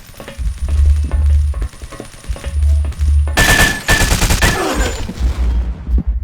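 Bursts of automatic gunfire in the video game Blockade 3D, rapid machine-gun rattles in several close, loud volleys separated by short pauses, with a denser crackling exchange midway and no voices.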